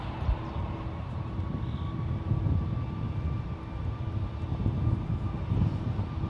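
A two-year-old United Airlines Boeing 737 MAX 9 departs San Francisco International Airport for Kahului with a steady, distant jet-engine roar that holds for several seconds.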